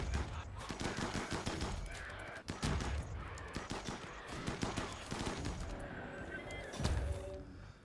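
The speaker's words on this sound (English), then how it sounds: "These shots are doing damage. It looks like crushing damage." Rapid gunfire crackles through a battle in the video game RimWorld, dense overlapping shots and impacts continuing throughout at moderate volume.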